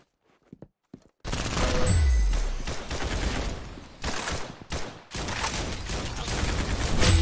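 Gunfire in the Roblox game Arsenal: a few faint clicks, then sustained bursts of rapid automatic shots, loud and close, with brief gaps between volleys.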